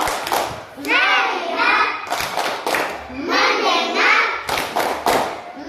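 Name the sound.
class clapping a focus clap rhythm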